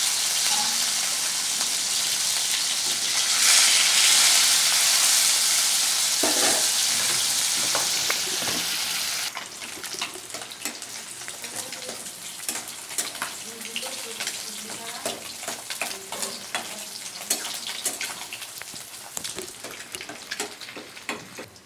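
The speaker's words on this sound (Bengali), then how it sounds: "বন্ধুরা আমার মাছগুলো ভাজা হয়ে গেছে" Turmeric-and-salt-coated rohu fish frying in hot oil, a loud steady sizzle that settles into crackling pops and spatters, with light stirring clatter and no talking.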